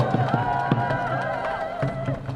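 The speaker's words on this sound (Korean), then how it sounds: "오, 박수!" Crowd at an outdoor election campaign speech at a five-day market in Gapyeong, South Korea, breaking into applause: a dense, steady patter of clapping with some cheering, moderately loud and continuous throughout.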